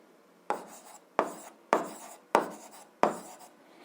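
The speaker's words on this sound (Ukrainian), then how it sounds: "записую" A pen writes on paper in five short, scratchy strokes spaced about evenly, each one close and crisp and fading quickly, with quiet pauses between them.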